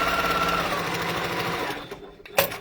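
A sewing machine runs steadily, stitching a brightly coloured fabric flap into place, its continuous close whir slowing and fading near the end before a brief clack.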